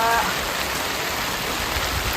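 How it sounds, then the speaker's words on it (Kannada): Heavy rain pours down near a house at night, a loud, steady, dense hiss of water with no breaks. "ನಮ್ಮ ಮನೆಯ ಹತ್ತಿರ ಎಂಥ ಮಳೆ ಹೊಡಿತಾ ಇದೆ"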